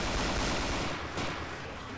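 An M60 machine gun firing in Left 4 Dead 2, a dense continuous burst of rapid gunfire that fills the short stretch before easing slightly toward the end.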